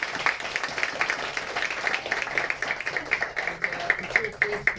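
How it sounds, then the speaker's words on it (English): A launch-event audience on youth employment hubs gives their panel a round of applause, a modest, fairly thin patter of clapping from a small crowd, continuous for a few seconds with faint voices underneath. "can we give a round of applause to our great panel?"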